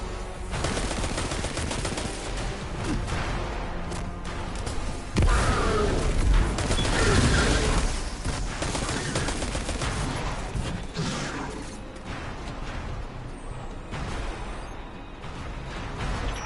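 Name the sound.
gunfire in the video game Destiny 2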